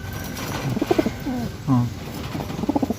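A racing pigeon coos close by during road training, giving several soft throaty coos and warbles with short pauses between them over a faint background hum.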